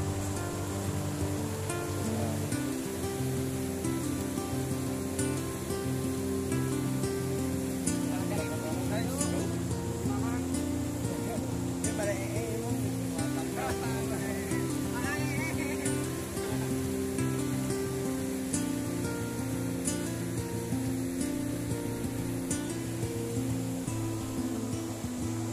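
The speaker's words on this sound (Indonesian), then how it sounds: "Nih, sungai." A river flows with a steady, loud rushing wash of water heard close up and continuous throughout, with a constant broadband roar and no pauses.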